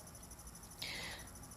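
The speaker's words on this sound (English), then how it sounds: "There's a lot of crickets outside." Crickets chirp outdoors in a dense continuous trill, faint and steady, with one brief louder burst of chirping partway through.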